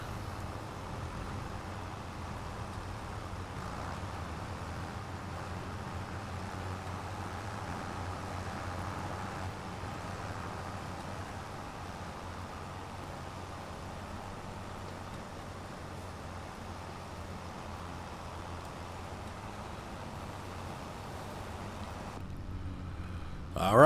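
A tractor engine in Farming Simulator 25 drones steadily and evenly, a low continuous rumble held for over twenty seconds with no voices, ending in a brief louder bump.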